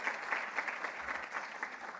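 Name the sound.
audience applause for the queen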